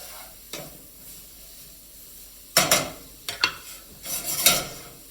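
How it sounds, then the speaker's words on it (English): Vegetables seasoned with salt and pepper get stirred in a skillet, a faint sizzle under scattered scraping strokes, with a few louder bursts of spoon-on-pan clatter toward the end. "Stir that around a bit."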